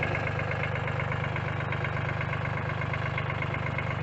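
A backhoe's heavy engine idles steadily at about 800 RPM with an even, low rumbling chug, constant throughout and fairly distant, with no talking.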